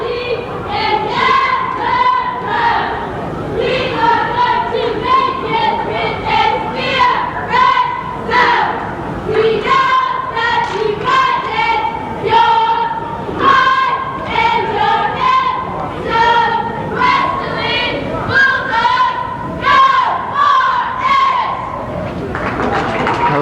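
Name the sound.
high school cheerleaders doing a welcome cheer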